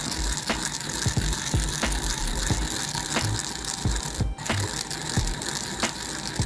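Roasted golden sesame seeds are ground with salt in a hand grinder, making close, regular ratcheting clicks roughly every half second over a gritty crushing texture.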